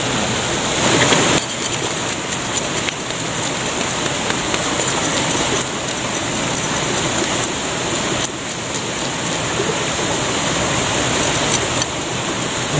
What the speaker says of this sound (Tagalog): Nandito tayo sa sapa.